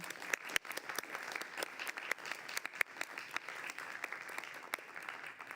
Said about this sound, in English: Let's give them a round of applause as our thank